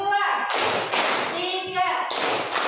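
Children clap their hands in a counting clap game, a few sharp claps landing between stretches of nearby talking.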